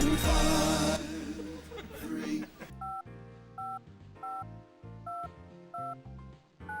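A payphone is dialed in the Spy Fox video game, giving a series of short DTMF keypad tones in an irregular rhythm after a burst of louder game noise.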